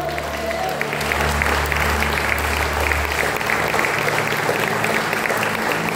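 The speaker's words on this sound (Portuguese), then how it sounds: "Você pode dar um forte aplauso ao Senhor." Church congregation applauding during a worship service, a steady, dense wash of clapping that fills the room for the whole stretch, with a low hum underneath that fades partway through.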